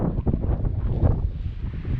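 Steady gusty wind on Mount Pemigewasset buffets the microphone with a loud, low rumbling roar that rises and falls for the whole stretch, with no voices.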